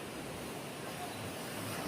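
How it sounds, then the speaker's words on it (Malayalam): Surf from the sea beside a roadside temple area on the coast rolls in as a steady, broad wash of waves breaking, with wind noise over the microphone and no distinct single crash. "നല്ല അടിപൊളി തിര അടിച്ച് കയറുന്നു"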